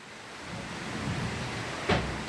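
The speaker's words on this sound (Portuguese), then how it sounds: "muita chuva aqui hoje na minha região" Heavy rain falling outside a house, a dense even hiss of broadband noise heard from indoors, with one brief louder burst near the end and no talking.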